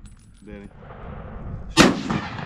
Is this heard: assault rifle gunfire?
yes